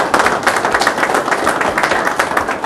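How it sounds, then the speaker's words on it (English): Crowd applause at a restaurant ribbon-cutting and grand opening, many hands clapping loudly and steadily throughout, close and full, without talk. "big round of applause now, please, for Whit Milburn"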